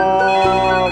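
Telephone ringtone plays loudly and steadily, a sustained melodic electronic tone filling the moment with no voices over it.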